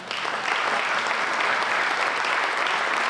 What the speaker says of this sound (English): if we can give a round of applause again for them